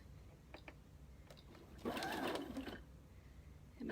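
A sewing machine stitches a pillow made from a placemat and sweatshirt in one loud, steady mechanical whir of about a second. Quieter clicks come before it and a brief restart follows.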